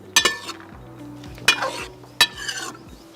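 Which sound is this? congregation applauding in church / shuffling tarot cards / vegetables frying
vegetables frying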